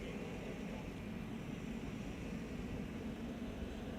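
A Delta Airlines Airbus A330-300 arriving on the Polderbaan at Schiphol after a flight from Atlanta, a steady broad jet roar heard from a distance with no other sounds.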